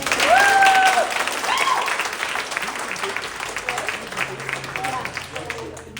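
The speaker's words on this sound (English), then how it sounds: "Give a round of applause for Nestor" Audience applause at a live comedy stage show, starting loud and gradually thinning out across a few seconds, with a few shouts or whistles near the start.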